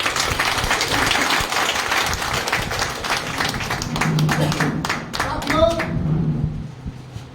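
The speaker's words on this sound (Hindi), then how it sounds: "एक बार जोरदार तालियां।" Loud crowd applause from an audience at a Hindi-language motivational meeting, dense clapping sustained for several seconds before thinning and tapering off near the end.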